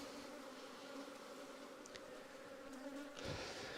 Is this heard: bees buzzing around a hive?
yes